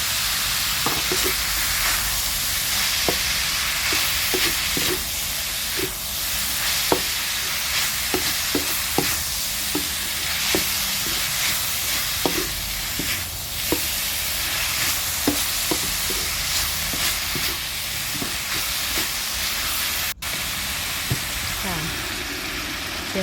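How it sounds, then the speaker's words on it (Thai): Minced pork and pickled bamboo shoots stir-frying in a pan give a steady close sizzle with frequent light scrapes and taps of a utensil, running continuously throughout with no talk. "พอหมูสับสุกแล้วเราก็จะเอาหน่อไม้ลงไปผัดด้วยนะคะ"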